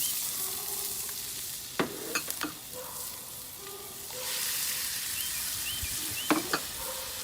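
Onions and garlic soften in a pan for a vegetable paella sofrito, a faint, even sizzle under a few scattered clinks and scrapes of a utensil.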